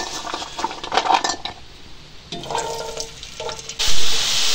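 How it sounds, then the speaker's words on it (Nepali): Garlic frying in plenty of hot oil in a pan while making Nepali timur pickle, a steady sizzle broken by metal spoon clinks and stirring scrapes against the pan, with a louder hissing burst near the end. "अब फेरि म लसुनलाई भुट्दैछु हैन"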